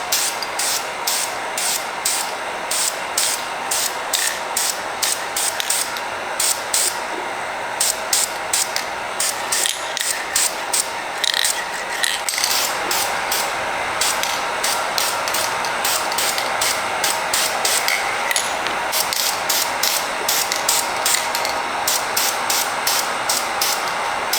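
Spray paint hissing from an aerosol can in light, repeated bursts as a tack coat goes onto unsanded Lexan, the rhythmic pulses steady and close over a constant background hiss.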